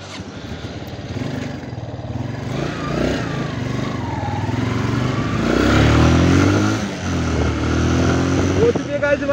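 A motorcycle ridden on a hill road toward Sanjauli, its engine droning steadily close by with wind noise and rising revs in the middle. Someone talks over it.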